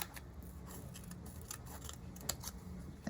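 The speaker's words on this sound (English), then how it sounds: "I'm gonna need to trim some of this off." Scissors trim craft material for a Disney cat Figaro pin project, giving several short, close snipping cuts spaced irregularly, with light handling noise between them.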